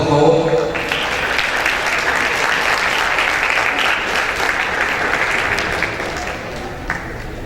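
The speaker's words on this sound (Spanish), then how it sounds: "Un aplauso, por favor." Audience applause at a university debate between psychology and human medicine students, steady clapping filling the room from start to finish and fading slightly near the end, with some talk audible beneath it.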